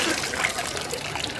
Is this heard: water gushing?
yes